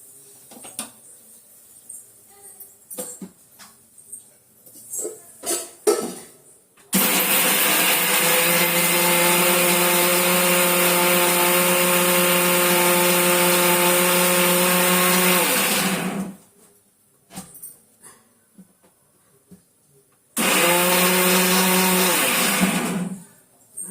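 Mixer grinder whirring as it grinds onion and tomato for curry: a loud steady motor whine running about nine seconds, then silence, then a second shorter burst, with light clatter of handling before it starts.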